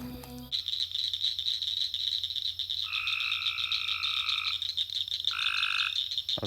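A loud chorus of frogs at a pond croaks continuously, with a steady high trill and bursts of rattling calls close by, no voices.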